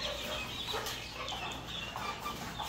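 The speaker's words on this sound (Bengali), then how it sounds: "এগুলো আপনার হেজা মুরগি বলে চট্টগ্রামের ভাষায়।" Deshi chickens in a flat-house chicken farm cluck softly, making low scattered calls over a steady background hum.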